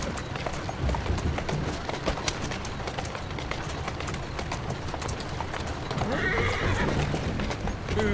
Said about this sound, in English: Who's a good horse?